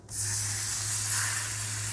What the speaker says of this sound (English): Now this is very hot. So yeah, you will hear it sizzle a little bit.